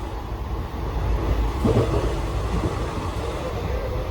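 A train passes by as a steady, fairly loud rumble with a slight swell in the middle, with no voices over it.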